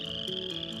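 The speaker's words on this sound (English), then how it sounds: "There were frogs," Frogs croak in a brief sound effect, rapid throaty calls layered over a steady tonal musical bed, fairly close and clear with no talk.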